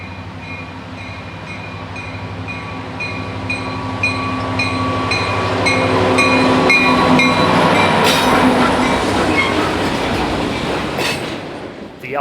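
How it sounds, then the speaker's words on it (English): Westbound freight stack train passing on the Elgin, Joliet & Eastern line, a loud, close rumble with rhythmic clickety-clack of wheels and squealing that builds, then fades near the end. "a westbound stack train is actively swinging off the trunk and choking the line down to one westbound main"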